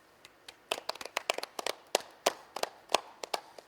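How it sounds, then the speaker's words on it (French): A small group clapping briefly and lightly, a sparse, uneven patter of close hand claps with no cheering or voices. "C'était vraiment drôle comme applaudissement, ça. C'était très discret."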